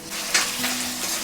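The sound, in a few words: coconut pieces frying in oil in an iron pan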